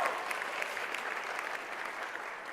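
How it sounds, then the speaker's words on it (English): A pageant audience gives contestants a sustained round of applause, even and moderately distant clapping that carries through the whole stretch without a break. "Let's give each of our contestants one more round of applause"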